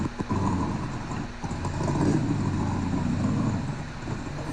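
A C5 Corvette engine runs steadily at a car meet, a low, continuous rumble holding close and even throughout with a slight swell in the middle.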